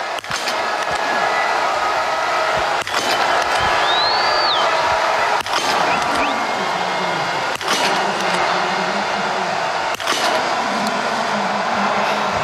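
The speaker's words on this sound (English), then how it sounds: "Hear the spectators there. They're cheering now as Nadine comes through Horschler." Spectators at a women's biathlon World Cup relay in Oberhof cheer as a wall of crowd noise and horns, steady and loud throughout, with periodic sharp cracks and a rising whistle-like tone.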